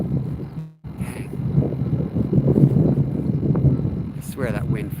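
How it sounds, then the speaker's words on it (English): Wind gusts steadily outdoors on a rainy, cold day, a continuous low rumbling buffet against the microphone after a brief dropout, with a short burst of higher noise near the end. "I swear that wind freaking follows me. Wherever I go, it gets windy."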